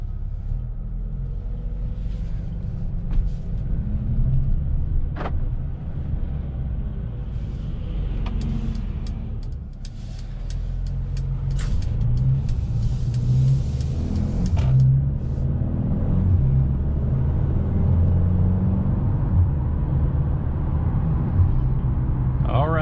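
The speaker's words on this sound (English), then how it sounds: "driving this 2021 Mercedes-Benz GLA, even in comfort mode, this thing sounds really nice" A 2021 Mercedes-Benz GLA 35 SUV in comfort mode drives along with a steady, deep engine rumble heard from inside the cabin, swelling slightly as it accelerates.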